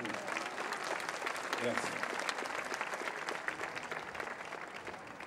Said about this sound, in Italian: Non l'ho sentito l'applauso, lo potete rifare così.